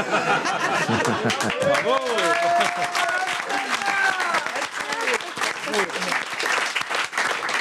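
Audience applause after a song at a live show, steady dense clapping throughout with chatter, laughter and a voice over it.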